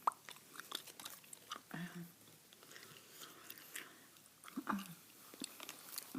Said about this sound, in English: Here's the bubble gum I'm chewing tonight, by the way.